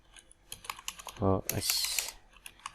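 A handful of crisp keystrokes on a computer keyboard pressing the Ctrl+C copy shortcut, light clicks scattered across the moment, with a short voiced sound and a breathy hiss passing over them.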